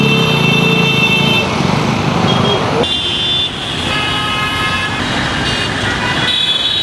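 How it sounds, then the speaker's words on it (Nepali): Vehicles honk in busy traffic at Koteshwar, Kathmandu, a posted no-horn zone. Several loud, sustained horn blasts overlap above a continuous roar of passing engines. "यसै ठाउँमा हर्न बजिरहेको"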